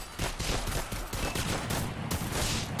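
Rapid, overlapping bursts of weapon fire from the VR shooter Dead Ground Arcade ring out loudly and almost without pause for about three seconds, with no talking.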